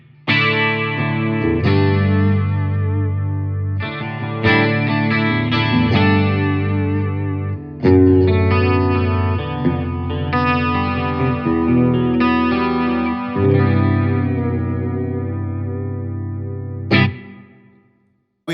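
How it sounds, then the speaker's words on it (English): A Fender Champion 100XL amp with chorus and reverb carries a loud guitar passage of sustained chords and single notes, swirling and roomy, with a sharp stop and a short final strum near the end. "Then we have chorus and reverb."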